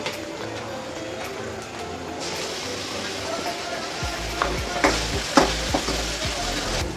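Ginger garlic paste frying with browned onions and turmeric in a pan, a soft continuous sizzle with scattered clinks of stirring that grow louder toward the end, with faint background voices.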